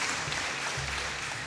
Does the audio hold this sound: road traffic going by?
no